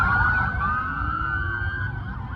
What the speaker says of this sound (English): that is a lot of police cars